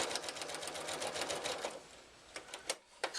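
A sewing machine stitches jelly roll quilt strips, running in a fast, close mechanical clatter for about two seconds, then slowing to a few separate stitch thumps at the end.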